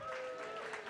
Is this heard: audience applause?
yes